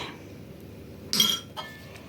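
A utensil clinks sharply against a bowl of cake batter twice while stirring, a bright metallic knock followed by a softer one, in an otherwise quiet kitchen.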